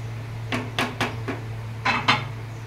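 Milk powder mixed into milk in a bowl with a spoon: half a dozen quick metallic clinks and scrapes in two short bursts, close by, over a steady low hum.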